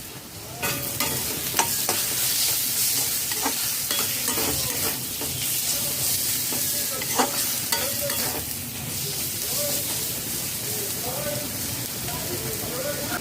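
Ground spices, Kashmiri chili powder and sugar fry in hot oil in a pan with a steady loud sizzle. Scattered scraping clicks of a spoon stirring sit close over the continuous hiss.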